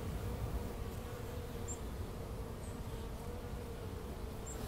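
Honey bees humming around a beekeeper's hives, a faint continuous buzzing drone with occasional brief higher whines of bees passing near.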